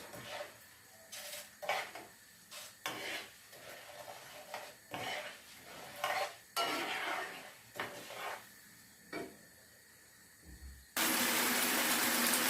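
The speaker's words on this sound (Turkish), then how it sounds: "Ee, karıştırıyorum. Kavuruyorum bir güzel." Metal spoon repeatedly scraping and knocking against a pot while vermicelli and rice are stirred and toasted, a steady series of clattering strokes up close, ending in a loud sizzling hiss.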